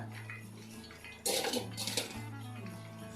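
Fried chicken pakoda pieces tipped into a metal strainer, a sudden clattering rattle of pieces hitting the mesh followed by a second smaller clatter, fairly close in a quiet kitchen.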